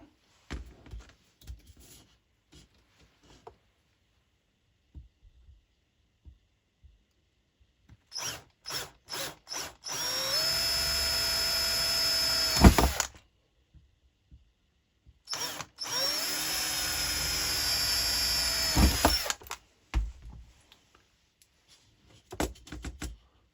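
Two long bursts of a power drill whirring steadily for a few seconds each while drilling holes in a Tamiya model truck, separated by quiet handling clicks and taps, with no talking.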